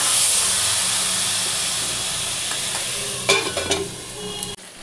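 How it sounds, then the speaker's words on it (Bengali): Goat meat sizzles and hisses steadily in a hot pan, with a few scraping stirs of the spoon clattering near the end, close and continuous without talk. "এটা ভালো করে কষছি আমি"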